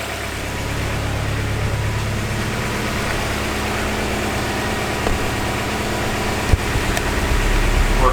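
A Honda Civic with a swapped H22 engine idles steadily around 1,000 rpm, a loud, continuous low rumble with a slight exhaust leak, droning evenly throughout with one brief knock near the end.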